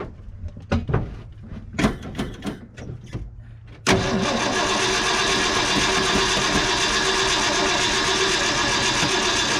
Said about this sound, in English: I'm gonna crank it over and just see if I can start it without any carb cleaner.